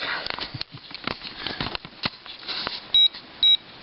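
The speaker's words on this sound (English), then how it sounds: "This level beeps when it's level." Electronic level used during roof repair work, giving two short, clear beeps near the end after a stretch of handling noises, rustling and taps close to the listener.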